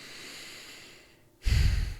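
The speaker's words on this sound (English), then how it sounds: "that was just me breathing" A single person breathes softly, then takes a sudden loud, close sniffing inhale with no speech.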